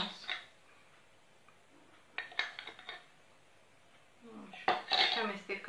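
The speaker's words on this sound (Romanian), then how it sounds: "Și amestecăm bine." A spoon stirs yogurt with pumpkin, flax, sesame and sunflower seeds in a bowl, giving soft scattered clinks and scrapes against the dish, quiet and close, with faint background sounds.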